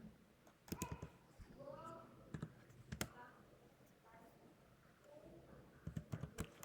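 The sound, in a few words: typing on computer keyboard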